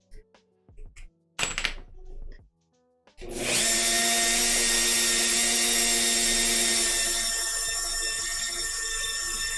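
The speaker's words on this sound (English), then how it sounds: "We'll put the old stone Dremel head on." A Dremel rotary tool with a stone grinding head whirs up after a few brief knocks and a short burst, then holds a loud, steady high-pitched grinding whine close by while shaping a cosplay piece.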